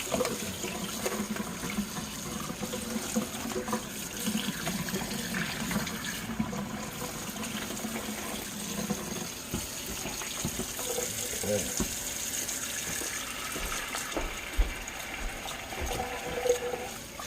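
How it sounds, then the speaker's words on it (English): Pork chops rinsed under a running kitchen tap, steady splashing water that shifts as the meat is turned, with a person talking over it at times. "Go ahead and rinse these off. I like to do that with any meat I get. Just rinse it."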